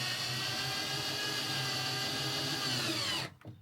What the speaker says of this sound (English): you use a different drill driver,